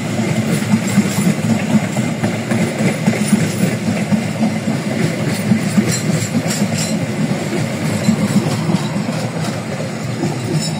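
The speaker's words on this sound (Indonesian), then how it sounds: "Kereta api Argo Bromo Anggrek masuk stasiun Surabaya Pasar Turi." Argo Bromo Anggrek passenger train entering Surabaya Pasar Turi station: a steady, loud rumble of wheels and engine with faint rail clatter, continuous and close for the whole stretch, no voices.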